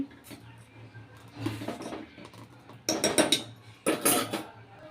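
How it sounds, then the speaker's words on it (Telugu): A spoon stirring sugar into oats milk in a metal pot, heard as close scraping and clinking strokes in a few louder bursts over a low steady hum. "వన్ స్పూన్ షుగర్ వేసుకున్న తర్వాత బాగా కలుపుకోవాలి"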